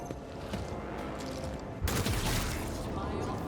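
Gunfire from a ranged weapon in the turn-based game Warhammer 40,000: Rogue Trader, a sudden loud burst of shots partway through, layered over steady game ambience and music.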